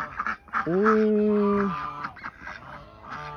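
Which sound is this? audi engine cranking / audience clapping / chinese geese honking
chinese geese honking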